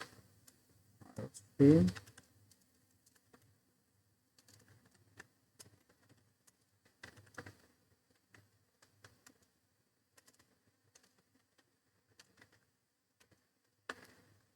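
Someone typing basic C++ code on a computer keyboard, with sparse, irregular key clicks near and fairly quiet, plus one louder burst of handling noise early on.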